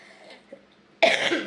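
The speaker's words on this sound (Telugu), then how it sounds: "మాట్లాడుతూ ఉంటే గట్టిగా దగ్గొస్తుంది" A single sharp, loud cough bursts out near the end after a quiet stretch.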